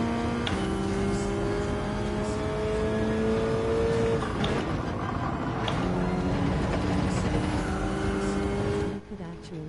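Porsche race car engine in a racing video game, a steady loud drone of revving and shifting engine tones across the clip, with other cars blending in and a voice talking over it.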